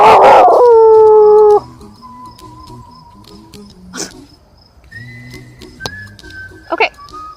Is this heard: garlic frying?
no